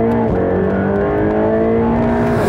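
A Mercedes AMG GT Black Series engine revs hard and loud from inside the car, its pitch climbing, dropping briefly with a gear change, then rising again.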